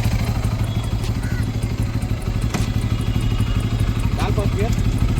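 Motorcycle engine running in gear on a stand during chain cleaning and lubing, a close, loud, steady chugging putter with light clatter throughout.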